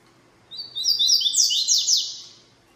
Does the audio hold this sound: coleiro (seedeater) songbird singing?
yes